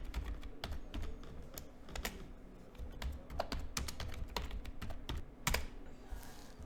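Steady typing on a computer keyboard while entering data into a spreadsheet, a continuous close run of key clicks with sharper spacebar-like taps, heard alone with no talking.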